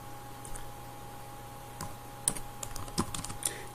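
Someone types on a computer keyboard while working in ArchiCAD: a short run of quick, close key clicks, sparse at first and then a small flurry over a steady low hum.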